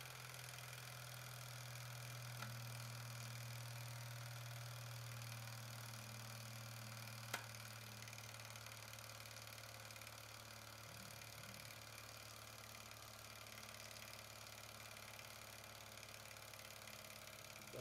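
A Wilesco D10 model steam engine fired by a gas tube burner runs steadily at low speed, a faint continuous low hum with soft mechanical vibration and a couple of isolated light clicks, heard alone and quiet.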